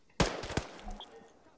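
Gunfire in the military shooter Arma 3, Antistasi mode: one sharp shot, then a second crack shortly after, with fainter trailing reports and echo fading out.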